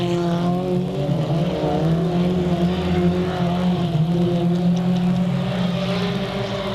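Race cars roar around a dirt oval at Delta Speedway, a loud, continuous drone of engines with layered revving tones as several cars pass close by, sliding after a water patch.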